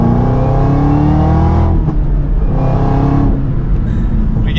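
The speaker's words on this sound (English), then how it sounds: "We get some pops in that exhaust." A 2023 Chevrolet Camaro ZL1 muscle car under way, its engine droning loud and steady up close, with a couple of brief sharp exhaust pops breaking through the roar.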